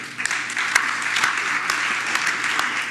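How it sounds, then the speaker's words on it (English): Audience applause for the candidates at a community candidates forum, steady dense clapping filling the room for about three seconds with a few sharper claps standing out. "how about a round of applause for the candidates?"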